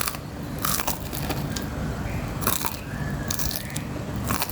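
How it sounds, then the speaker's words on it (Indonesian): Crisp crunching bites into a fried shrimp peyek cracker, several sharp close crunches in irregular bursts with quieter chewing between, no talk heard. "Ini peyeknya aku makan, aku cobain, bisa didengar suaranya itu garing renyah banget."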